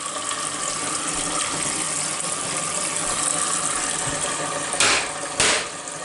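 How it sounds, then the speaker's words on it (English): Water from a 300-foot well runs from a tap into containers, a steady close gushing stream with two brief louder surges near the end. "I'll fill that up, and I'll fill the other one up, and that's well water"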